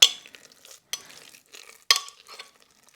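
A spoon scoops carrot wrap mixture onto a nonstick dehydrator tray sheet, making a few soft, close scrapes and taps separated by quiet gaps.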